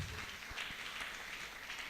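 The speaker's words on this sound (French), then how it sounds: "Est-ce qu'on peut applaudir bien fort?" An audience at a fashion show applauds steadily for about two seconds, a faint, diffuse wash of many hands clapping heard from a distance.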